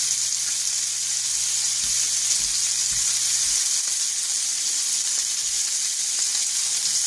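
Pork chops sear in a hot pan with a steady, dense sizzle and crackle, close and continuous, with a few low knocks early on and no talking.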